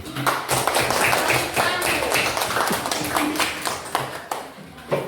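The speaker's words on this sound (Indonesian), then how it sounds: "Oke, tepuk tangan untuk" Students in a classroom clap together for a classmate's answer, brisk and fairly rhythmic group claps, close and steady, tapering into a few scattered claps at the end.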